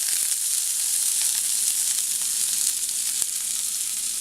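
Chopped shallots sizzling steadily in hot oil while making Kerala seasoned buttermilk, a continuous close, even frying hiss with a few faint stirring clicks, no voices.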